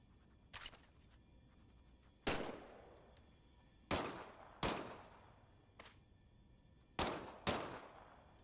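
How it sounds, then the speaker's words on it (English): A weapon test-fired in the VR game Medal of Honor: Above and Beyond, with about eight sharp, close single shots at irregular intervals, each leaving a short echoing tail over a quiet background. "why don't you test fire your weapon?"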